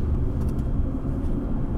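A car rumbles along at speed, a steady, loud low engine and road drone with no talk.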